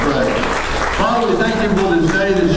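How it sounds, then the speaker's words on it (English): A church congregation claps in unison during worship, with steady hand claps mixed with voices and singing throughout. "Give the Lord another hand clap"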